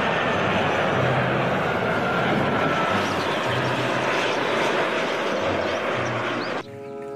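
A Garuda Indonesia passenger airplane gives a steady, loud, broadband engine roar that holds nearly constant, then drops off abruptly near the end.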